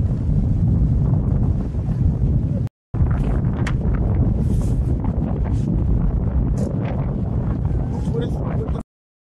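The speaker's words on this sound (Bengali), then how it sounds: "প্রচন্ড বাতাসের কারণে সৃষ্ট বড় বড় ঢেউ ঠেলে নৌকা ঘাট থেকে বের করতে হিমশিম খেতে হলো মাঝিদের" Strong wind buffets a boat on a haor wetland as large waves push against it, a loud continuous roar of wind noise and water with a short gap midway; no clear talk.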